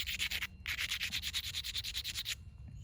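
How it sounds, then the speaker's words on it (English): Edges of an agatized coral spearpoint being ground down with a rhythmic scraping stroke, about a dozen quick close rasps in a steady back-and-forth pattern with a brief pause near the start. "by grinding both sides down and beveling this"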